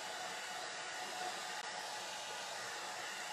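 Steady broadband whoosh of a hair dryer blowing on freshly painted wood, loud and continuous with no talking.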